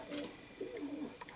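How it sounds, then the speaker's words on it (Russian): A milk-coloured female Nikolaev pigeon gives a brief, soft coo, close by but quiet against a low background hiss. "Так, это молочная голубочка."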